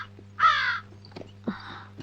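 A crow caws twice on a hillside, two harsh, loud calls close by with a short gap between them, over a low steady hum.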